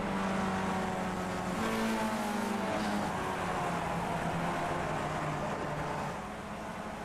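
Race cars in the iRacing Skip Barber Series at Mid-Ohio crossing the finish line after nine laps, engines droning steadily with shifting pitch as they pass, loud and continuous before easing slightly at the end.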